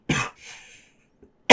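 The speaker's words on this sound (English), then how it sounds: "I'm going to cough 1 second." A woman coughs sharply several times up close, with a harsh first burst, a softer raspy follow-through, a faint catch and another strong cough at the end, with no speech.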